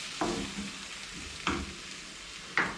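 Chicken stir fry sizzles in a hot pan as sauce is added and seared, with three sharp tossing clatters spaced about a second apart over a constant hiss.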